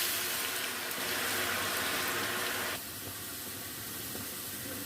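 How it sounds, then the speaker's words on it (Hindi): Sliced potatoes for chips sizzle in hot oil in a frying pan, a steady bright hiss that drops suddenly to a quieter crackle partway through, with no talking. "ऑयल में आलू ऐड कर देते हैं। आलू को फ्राई कर लेते हैं चिप्स को।"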